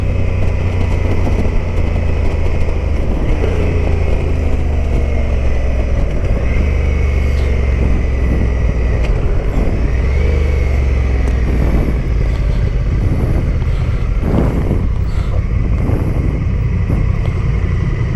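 A Honda motorcycle engine runs steadily while riding on tour, a loud continuous drone with shifting revs and wind rush, no talking over it.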